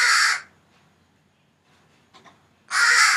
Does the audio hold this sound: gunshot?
no